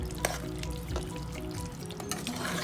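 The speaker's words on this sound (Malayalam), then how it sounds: "നമുക്കൊന്ന് ഇളക്കി നോക്കാം." Beef coconut roast sizzles and fries steadily in an oily pan while it is stirred, with close crackling and a few scraping accents throughout, and no voices.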